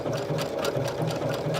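A sewing machine stitches hand-woven fabric with a rapid, steady mechanical whir and evenly pulsing needle beats, close and loud, running continuously without speech.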